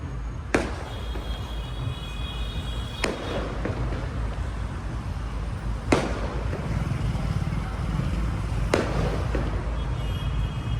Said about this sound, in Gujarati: ફૂટી જવા જોઈએ, ફટાકડા ફૂટી જવા